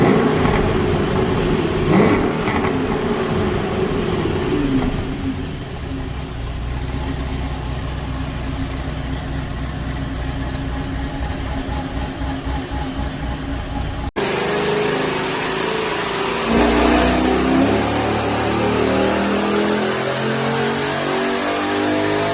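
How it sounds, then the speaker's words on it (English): A 2011 Caprice with a TSP 2 cam, LME heads and no muffler idles and revs, its loud, lumpy exhaust rumbling close by, followed after a cut by another stretch of rising, throaty revving. "Hey Dusty, let me hear them pipes."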